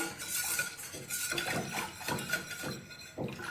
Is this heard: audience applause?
no